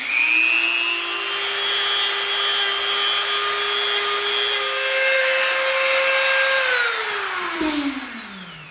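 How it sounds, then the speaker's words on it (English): A Dremel rotary tool fitted with a rough bit whines at a high, steady pitch as it rounds the edge of EVA foam for a pickaxe prop, close and loud, then spins down near the end. "now we're gonna take our super rough Dremel bit, and we're going to start rounding off the edge"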